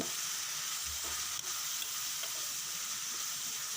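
Bottle gourd curry with turmeric being stirred in a hot pan, a soft continuous sizzle with faint scraping of the spoon, close and quiet, no talking.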